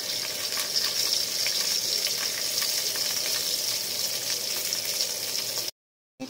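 Three sausages sizzle and fry in a pan, a steady close crackling hiss with scattered pops of spitting fat, cutting off abruptly near the end.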